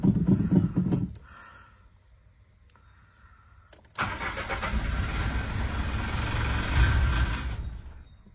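A Citroën Xsara 1.9 diesel with an opened screw cranks after preheating. A brief noise fades into a quiet pause, then the engine catches abruptly and settles into a loud, steady close running rumble.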